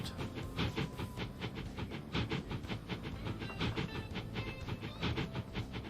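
A train running in the rail video game Transport Fever 2, with rhythmic clickety-clack of wheels over rail joints and a hissing, rumbling background, steady and moderately loud with no talk.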